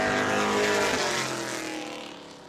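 A pro truck roars past on a qualifying lap at Auburndale, a loud, sustained engine drone close by that slowly fades as it moves away.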